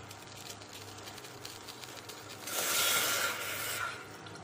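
Water pours into a tumbler for pomegranate leaf tea, a soft splashing rush lasting about a second near the end, over a quiet kitchen background.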